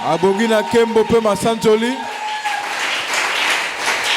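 Church congregation acclaiming God during a worship service: voices sing a chanted acclamation for about two seconds, then give way to a sustained wash of applause and cheering.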